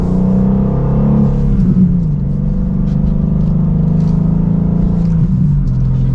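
A 2025 BMW M2 with a manual gearbox pulls hard from second gear, engine and exhaust rising in a loud, sustained growl, with a brief dip at each gear change before the rumble climbs again.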